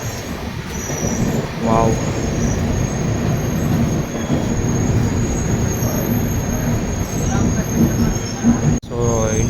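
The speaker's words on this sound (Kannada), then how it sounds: "ಸೊ ಇಂಡಿಯನ್ ಆರ್ಮಿದ ಟ್ರೈನ್ ನೋಡ್ರಿ" An Indian Army military train carrying trucks and tanks rolls past nearby with a continuous loud rumble of wagons and wheels, brief squeals, and a short exclamation from a voice.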